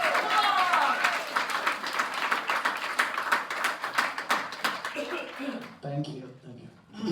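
Applause from an audience, a dense wash of clapping that fades out near the end as a voice begins speaking.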